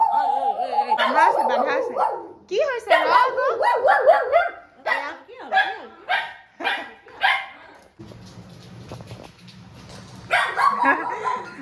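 A tied-up dog barks repeatedly at a home, sharp close yaps in bursts and short runs, with people talking in between and over it.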